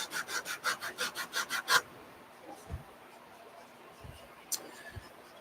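A wooden Royal Game of Ur board is sanded by hand with about nine quick, rhythmic rasping strokes, followed by faint scattered taps and handling noises.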